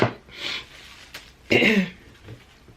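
Two breathy, congested bursts close to the microphone, like a sniffle and a short throat clear, separated by a quiet pause.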